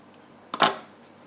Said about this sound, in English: Knife drop.